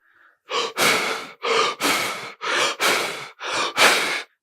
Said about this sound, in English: he says, start doing this breathing. And it's what he calls superventilation, which means fast.